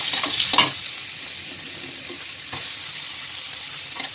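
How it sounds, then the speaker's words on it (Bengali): Onions frying in hot butter in a kadai, a steady close sizzle with a few stirring scrapes near the start and again around the middle. "এবার বাটারের মধ্যে আমি এই যে পেঁয়াজটা প্রথমে দিয়ে দেবো।"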